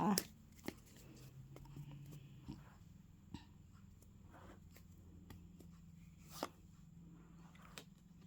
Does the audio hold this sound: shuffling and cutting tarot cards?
yes